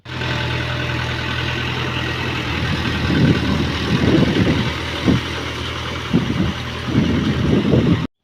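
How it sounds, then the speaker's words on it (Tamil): A farm tractor running in the fields with a steady low engine rumble throughout, and bursts of louder knocking or clattering in the later seconds. "டிராக்டர் ஓட்டும்போது அந்த சத்தத்தை கேட்டிருக்கீங்களா?"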